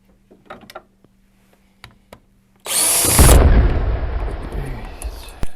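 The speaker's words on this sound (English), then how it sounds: "So I'm gonna go ahead and tear open this gearbox and take a look inside." Disassembling the gearbox of a Classic Army CA5A2 MP5 airsoft gun: a few faint clicks and taps, then a sudden loud burst of rattling, clattering mechanical noise that holds steady and slowly fades.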